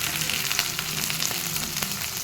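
Green chilies, tamarind and other ingredients for mint chutney sizzle steadily in a pan, a close, continuous crackling fry with faint stirring scrapes and no talk.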